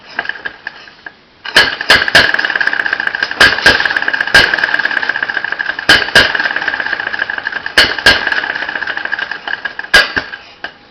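An open-crank engine cold-starts and keeps running: a steady mechanical hum rises after a brief quiet start, punctuated by loud, irregularly spaced firing bangs, with no one talking.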